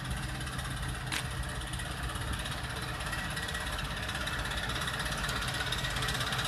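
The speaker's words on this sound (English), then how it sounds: "There's mommy driving the RV." An RV engine runs steadily on the road, a continuous even rumble with road noise and no break, heard from inside the cab.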